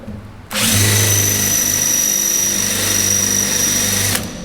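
Power drill boring into metal while mounting a GPS receiver on a 45-year-old John Deere combine, a loud, close, sustained whirring tone that starts abruptly, holds steady for several seconds, then stops.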